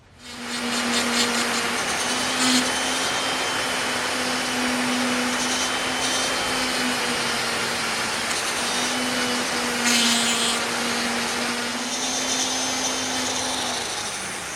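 A grinding wheel takes rust off old metal parts from a vintage shoe shine box, a continuous loud motor whine with a steady low hum and a gritty hiss of abrasion, close and unbroken, with no talking.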